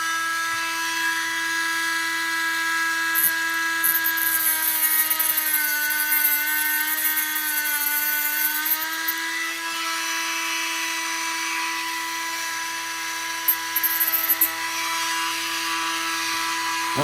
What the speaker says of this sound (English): Got my cutoff wheel. I'm going to just take the plastic off first.